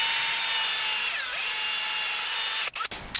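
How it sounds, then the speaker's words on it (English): A power drill bores through a fret slot in a handmade guitar fretboard, a steady high whine running for nearly three seconds before cutting off abruptly, followed by a couple of brief bursts. "if you drill right through that fret slot"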